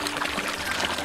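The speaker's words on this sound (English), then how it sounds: "It's coming, the water is coming right now." Water from a river pump's intake pipe pours out in a steady, close, continuous splashing stream, with no voices over it.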